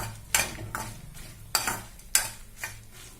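Dried red chillies and curry leaves being stirred in a pan over low heat, heard as five or six separate scraping and rustling strokes with light frying crackle in between, close and fairly quiet, with no voices.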